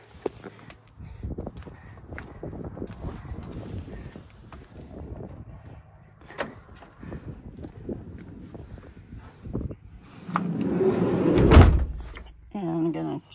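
A van door is pulled and shut with a window screen left down, after several seconds of quiet rustling and handling, ending in a loud close thud followed by a short rattle.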